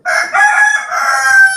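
A rooster crows loudly and very close by outdoors, one long drawn-out call with a harsh, strained quality, alone without talk.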